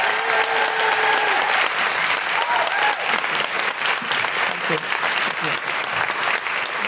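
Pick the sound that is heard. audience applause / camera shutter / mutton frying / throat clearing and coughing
audience applause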